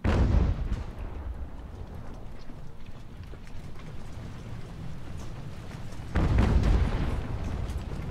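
Heavy booms of naval cannon fire in an Age of Sail battle from the game Ultimate Admiral: Age of Sail, a dense rumbling barrage with a louder burst of shots near the start and again toward the end.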